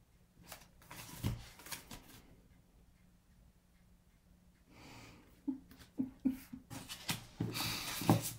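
Playing cards being shuffled, in soft riffles with brief flurries and clicks, fairly close, with breaths and some light handling noise between them and no talk.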